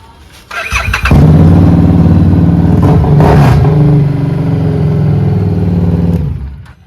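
A superbike engine fires up and revs loudly, holding a high roar for several seconds before dropping off abruptly at the end.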